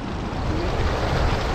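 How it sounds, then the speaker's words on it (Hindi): Cold river water in Barot Valley rushing steadily, a dense broadband wash of flowing water, close and continuous with no voices. "पानी की आवाज़ कितनी मज़ेदार आवाज़ आ रही है यहाँ पर, ये है नेचुरल म्यूज़िक।"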